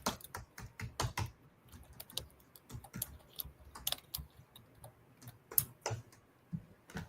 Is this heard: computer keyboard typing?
yes